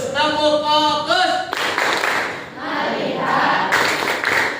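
A classroom of students claps in rhythm to regain focus. A voice leads the first moment, then the group breaks into dense, loud clapping mixed with the children's chanting voices.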